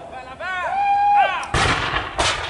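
A single sharp musket shot bursts out at a French and Indian War reenactment of a raid on Fort William, followed by a second report, just after a loud whistling tone.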